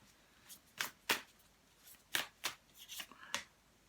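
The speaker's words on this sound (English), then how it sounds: "Let's draw you just one more card for this very powerful happening over here." Tarot cards riffle and snap in several quick, crisp bursts, close and fairly quiet, with short pauses between as cards are shuffled and one is drawn.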